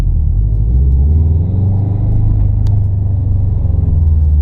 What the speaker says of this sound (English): Just do a quick little pull onto the freeway.